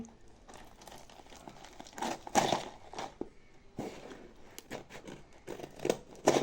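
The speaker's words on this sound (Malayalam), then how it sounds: "നമുക്കിത് അൺബോക്സ് ചെയ്ത് നോക്കാം" A package holding new earrings is unwrapped up close. The plastic wrapping crinkles and crackles in irregular bursts, fairly quiet, with short pauses between handlings.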